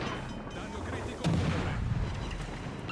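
Secondary battery guns boom in World of Warships: Legends, a rumbling burst of naval gunfire and blasts that swells midway, loud and close, with a voice faintly talking underneath.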